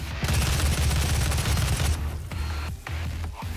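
An assault rifle in DOOM fires in a rapid, sustained burst of close, heavy shots, then breaks into a few shorter bursts.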